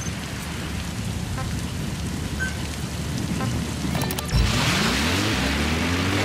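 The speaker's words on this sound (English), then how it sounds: "Rain." Steady rain falls across the open terrain of the video game Metal Gear Solid V, a dense even hiss with a brief louder burst partway through, then a rising tonal sweep, with no voices.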